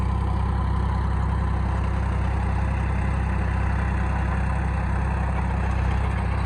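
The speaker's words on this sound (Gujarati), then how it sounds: "રોટાવેટર મારવાનું ચાલુ છે." A tractor engine drones steadily while pulling a rotavator through a farm field, a constant low mechanical hum with no breaks or voices.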